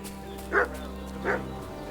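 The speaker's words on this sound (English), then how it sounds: "What's that dog making such a fuss about?" A dog in the video game Kingdom Come: Deliverance II gives two short barks a fraction of a second apart, heard at moderate distance over a steady low ambient hum.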